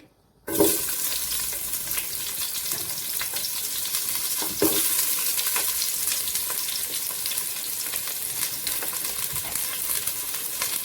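Onions drop into hot olive oil for a Turkish vegetable soup and set off a loud, close sizzle that jumps again midway as they are stirred, then crackles on steadily without talk.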